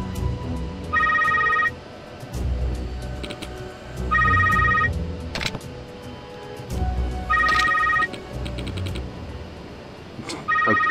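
A phone rings in the video game Yakuza Kiwami 2: three bursts of a trilling electronic ringtone about every three seconds, with game music and effects underneath.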